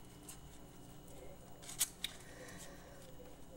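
Scissors snipping a desert rose plant during pruning, two quick, faint cuts close together against a quiet background.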